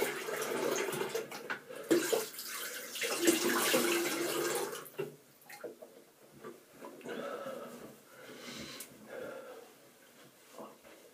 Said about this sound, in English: Now I'll just rinse my face with some clean water.